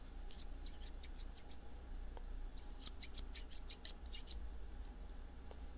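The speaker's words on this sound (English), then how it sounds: "we're going to be using the set of scissors that have straight ends, straight blades" Straight-bladed hair scissors snipping close to the microphone in quick clustered bursts of crisp metallic cuts, two runs of rapid snips separated by a short pause, quiet and intimate with no talking.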